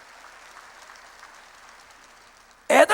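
After near silence, a church congregation at a Korean worship service bursts into loud applause that lasts only a moment before cutting off.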